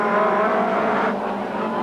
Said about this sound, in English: In car with Bell. Chasing Andy Rouse. Straight past